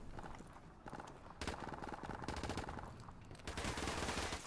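Rapid automatic gunfire crackles in bursts in Modern Warfare Remastered, a prop hunt match, with dense clattering shots that stay steady throughout and swell louder near the end.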